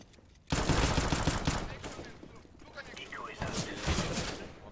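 Rapid bursts of gunfire from the Mirage map in Counter-Strike, loud and close, rattling almost continuously with dense sharp cracks and a brief quiet lead-in.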